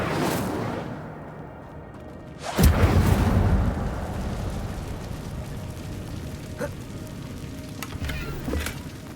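An Incendio fire spell bursts out in Hogwarts Legacy with a sudden loud whooshing blast, then a roaring, crackling burn that fades over several seconds amid faint cave ambience.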